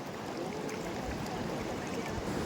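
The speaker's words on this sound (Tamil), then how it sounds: "டேம்லேருந்து இங்கேருந்து கொட்டுது தண்ணி" Water pours down from a dam into a stream as a steady, dense rushing roar, continuous and fairly loud, with no voices over it.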